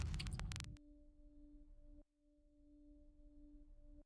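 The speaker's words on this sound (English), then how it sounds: "So this one's a reverse sound." A reversed sample from the Exodus expansion for Playbeat 4 plays alone: a short swelling burst that cuts off abruptly, then two steady sustained tones that drop out briefly at the two-second mark before returning until the end.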